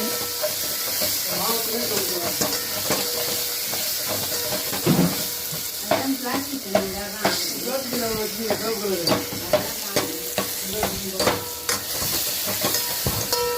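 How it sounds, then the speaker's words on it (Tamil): Onions and tomatoes sauté in a pan for sambar, giving a steady sizzle with repeated scraping stirs that grow more frequent in the second half, heard close up with no talking. "வெங்காயம் தக்காளி நல்லா வதங்கிட்டுருக்கு"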